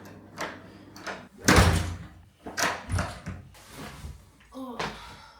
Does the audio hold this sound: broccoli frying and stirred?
no